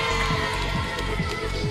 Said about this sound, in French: On peut applaudir Guillaume.